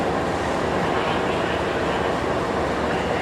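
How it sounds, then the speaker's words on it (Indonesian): The Fajar Utama Yogyakarta train rolls into the station bound for Pasar Senen, a steady dense rumble of wheels and cars on rails, loud and continuous throughout. "Fajar Utama Yogyakarta masuk stasiun to Pasar Senen Station"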